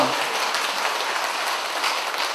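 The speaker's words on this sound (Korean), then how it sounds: "이럴 때 박수 크게 주십시오" An audience at a women's college medical lecture on skin health breaks into loud, sustained applause, a thick wash of clapping that fills the whole stretch without letting up.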